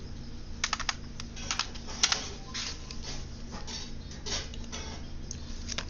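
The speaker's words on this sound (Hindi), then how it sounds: "जैसे मैं नाम लिखता हूँ, जैसे मैं लिखता हूँ राहुल कुमार एंड शर्मा" Key presses on a computer keyboard while names are entered into an Excel spreadsheet: a quick, uneven run of close, light clicks and taps with a steady hum underneath, and no talking.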